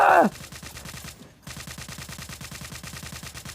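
A sniper rifle in the video game World War Heroes fires as a short burst, then a rapid, even string of sharp shots follows a brief pause. The shots are game-mixed and moderately loud.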